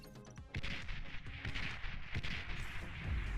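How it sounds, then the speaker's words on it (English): Artillery fire booms repeatedly in the real-time strategy game Beyond All Reason, a run of sharp distant thuds and blasts after a brief lull, each shot following closely on the last with no talking. "And the artillery still pushing rAndy back."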